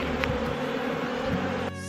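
Honey bees at an open beehive buzz in a dense, continuous drone, close and loud, with a few sharper individual buzzes passing near.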